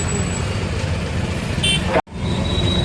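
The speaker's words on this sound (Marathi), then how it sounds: "ट्रॅफिक" Busy road traffic during an election campaign, with steady engine and road noise close by and a brief horn toot partway through. The sound cuts out sharply for a moment before the traffic noise resumes.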